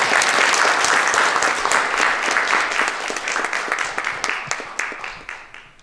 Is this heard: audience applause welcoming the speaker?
yes